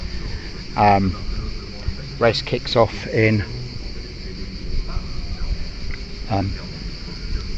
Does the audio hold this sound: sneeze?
no